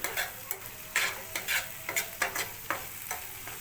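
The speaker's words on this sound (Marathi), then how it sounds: "आता थोडासा मिक्स करूया त्याच्यामध्ये" Onion-tomato masala with salt being stirred in a pan for a Koli-style octopus khimma, a steady run of sharp spoon-on-pan scrapes and clicks over a soft sizzle, close and alone.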